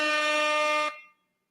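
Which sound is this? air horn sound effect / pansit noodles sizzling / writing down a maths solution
air horn sound effect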